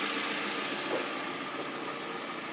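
A 2009 Toyota Camry LE engine idles with the hood open, a steady, smooth mid-range hum with faint mechanical ticking, close and even throughout with no one speaking.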